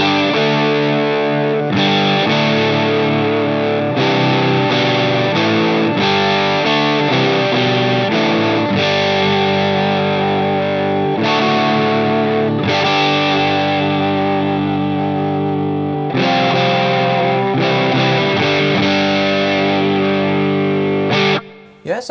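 An electric guitar plays through a Klon clone overdrive on a Line 6 POD Go, loud and continuous with driven, chorused chords ringing for over twenty seconds before cutting off abruptly, with no talking.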